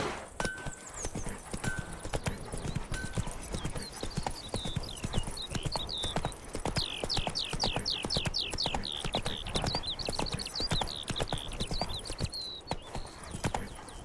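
Roach the horse gallops in The Witcher 3 with steady, rapid hoofbeats throughout, and a whinny rises partway through over a constant background bed.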